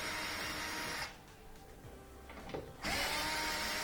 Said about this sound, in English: we just got to pull these 3/4 inch screws